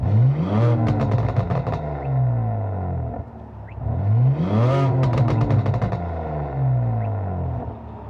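Catless exhaust on a 2026 BMW M4 Competition xDrive with valves closed, revving loudly twice with rising and falling engine tones, each rev followed by crackling pops as it settles, no talking.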